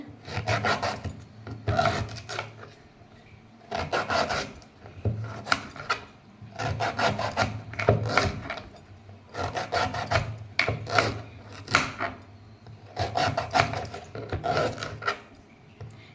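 Repeated rasping cuts through a tough, fibrous banana stem as it is chopped into small pieces, coming in about eight close, loud bursts separated by short pauses, with no talking.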